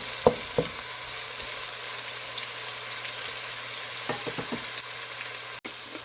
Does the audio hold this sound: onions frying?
yes